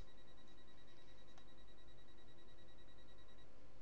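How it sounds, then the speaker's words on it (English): Train door alarm in the Train Sim World video game, a faint, steady repeating electronic tone sounding alone over a low cab hum for several seconds. "wait for that door alarm to stop"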